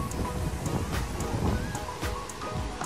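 Steady wind rushes across the microphone at a beach club in Bali, a constant blustery roar with faint surf mixed in and no clear voices.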